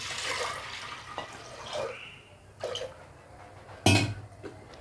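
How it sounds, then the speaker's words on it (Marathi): Water from a small pot is poured over chana dal in a pressure cooker, with gentle splashing and trickling, then a louder metallic clank and splash near the end. Close and fairly quiet, with no speech. "एक तांब्यावर पाणी टाकू"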